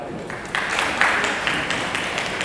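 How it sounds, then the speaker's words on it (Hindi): A teacher claps his hands in a classroom: a loose run of sharp, moderately loud claps over a low room murmur. "मैं ताली बजाऊंगा"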